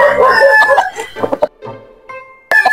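A fighting rooster crows loudly and close, one long strained call breaking off, then a short fresh burst begins after a brief gap.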